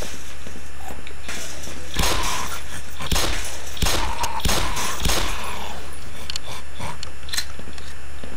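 Scattered gunshots in the video game Black Mesa, several sharp mid-distance cracks spread irregularly across a constant low background hum.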